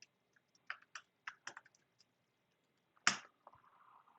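Keys tapped on a computer keyboard while a password is entered, with a few faint, scattered clicks and one sharper close keystroke near the end, no voices.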